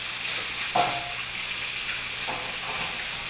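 Chicken thighs wrapped in prosciutto brown in a hot pan, giving a steady bright sizzle and hiss close by, with a couple of soft scrapes as the pieces are moved.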